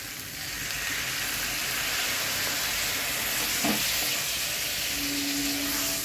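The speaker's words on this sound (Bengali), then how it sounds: "আমার তো মশলা কষাই হয়ে গেছিলো, এবার আমি জল দিয়ে দিচ্ছি" Fried spice masala hisses and sizzles loudly in a pan as a little water is poured in, giving a steady, dense frying roar with a brief stir midway and no voices.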